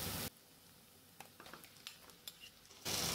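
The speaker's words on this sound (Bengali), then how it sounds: "এবার লো ফ্লেমে ফ্রাই করে নিচ্ছি।" Chicken frying with onion in a pan over low flame gives soft, faint sizzling and a few light clinks and stirring taps, framed by louder bursts of noise at the start and end.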